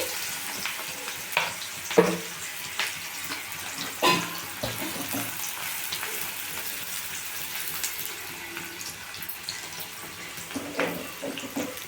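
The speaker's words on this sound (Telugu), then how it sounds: "ఆ ఫిష్ తీసిన నూనెలో ఉల్లిపాయ పచ్చిమిరపకాయ వేసి గ్రేవీ కోసం అండి" Sliced onions and green chilies frying in hot oil left over from frying fish, a continuous sizzle and crackle with occasional stirring knocks, close and alone without talk.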